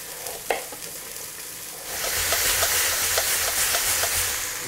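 Sliced carrots frying and caramelizing in a pan, cooked alongside pheasant for a cabbage dish: a faint stir and tap, then a loud, steady sizzle that rises and holds, broken by small clinks of stirring.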